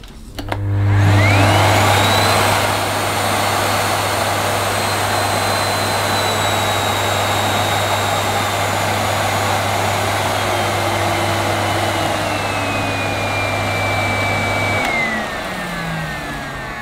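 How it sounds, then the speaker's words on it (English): A Miele Complete C3 Cat & Dog canister vacuum cleaner switches on and runs steadily with a loud, continuous motor drone and high whine, then cuts off near the end. "We'll see how quiet or noisy this Miele cat and dog cleaner is."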